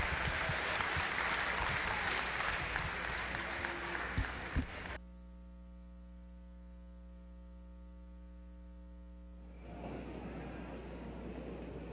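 An audience at a 2009 graduation ceremony claps for graduates in a loud, dense burst of applause that cuts off abruptly after about five seconds, leaving a steady electrical hum before faint room noise returns.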